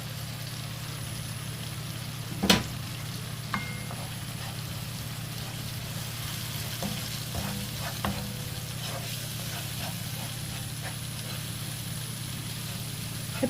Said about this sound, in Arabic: عاد نحرك الكل